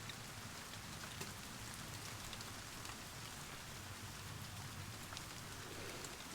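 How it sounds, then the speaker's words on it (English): Steady rain patters against a window glass, a dense even hiss of drops with faint low rumble underneath, continuous and fairly soft, with no voices. "The sound of rain against a window"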